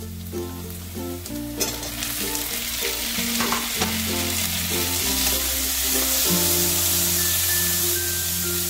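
Tomatoes go into reddish-fried onions and green chillies in hot oil for an amudi fish curry, with a loud steady sizzle and frying hiss, a splash as they drop in, and stirring scrapes throughout.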